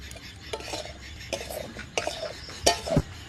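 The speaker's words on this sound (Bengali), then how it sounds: "নাও তরকারিটা নাড়ো।" A spoon scrapes and clatters around a pan while curry is stirred, with intermittent metallic knocks and light sizzling in a quiet kitchen.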